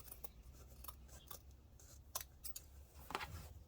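Scissors cut through two stacked fabric squares at once, giving a series of soft, close snips, some of them crisp and some of them muffled, spaced irregularly over a faint steady background hum.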